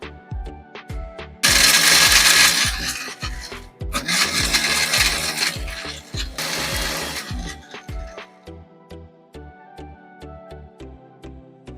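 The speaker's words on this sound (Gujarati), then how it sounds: "ત્યાર પછી આપણે આ બિસ્કિટના ટુકડાને મિક્સર જારમાં પીસી લેશું" A mixer grinder jar grinds Oreo biscuit pieces into powder for a cake, with three loud, roaring bursts of whirring blades, each a couple of seconds long, over steady background music.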